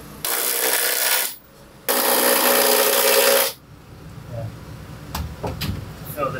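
Power driver running lag screws into a rescued wooden sailboat, two sustained loud whirring bursts of about one and three seconds, followed by quieter clinks and handling noises.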